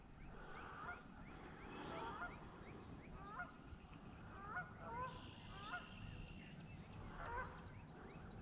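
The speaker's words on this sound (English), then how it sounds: "Ducks are having a beautiful day out here, aren't they? Flying up the river." Ducks on a river give out several honks and quacks in short scattered bursts over steady outdoor background noise, moderately close, with a few calls overlapping.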